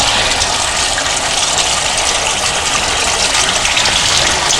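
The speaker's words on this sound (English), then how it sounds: "and then just some pure water, and you can see it's rinsing away pretty nicely" Pure water rinsing ink off a relief printing plate, a loud, steady hiss of running, splashing water without pause and without voices.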